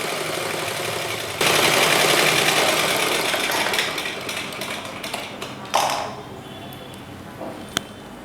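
A sewing machine top-stitches a chudithar neckline with lining cloth, a loud close whirring run that slows and stops, followed by scattered clicks and fabric handling.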